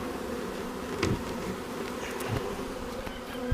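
Package honey bees hum in a steady, dense buzz close by while being installed, with a few individual bees droning past at moments.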